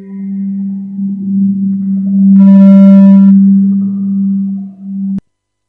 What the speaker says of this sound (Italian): Qui sono dei suoni da caverna